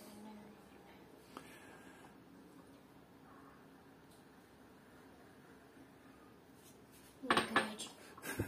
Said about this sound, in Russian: Ты можешь взять ложечку, добавить сахар чуть-чуть и размешать.